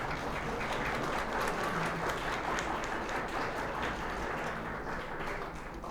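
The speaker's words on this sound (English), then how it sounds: "let's get a round of applause." Dinner guests applaud together at a family gathering, a fairly quiet but continuous patter of clapping that carries on for about six seconds and eases slightly toward the end.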